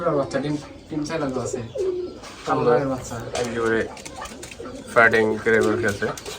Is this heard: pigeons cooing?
yes